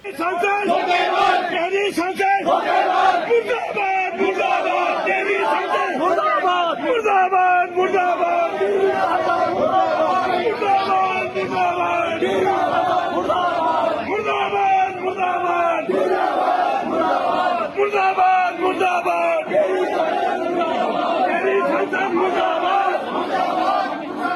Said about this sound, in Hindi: पूर्व फौजी बहुत गुस्से में हैं और रानी के खिलाफ मुर्दाबाद के नारे लगा रहे हैं